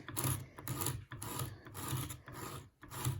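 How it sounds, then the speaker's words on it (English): Sandpaper rubbing filler on a 1960s sunburst (sun-ray) mirror, worked along the design in rhythmic back-and-forth strokes, about five or six close, steady rasping passes with brief pauses between. "sand in the direction of the design of the mirror"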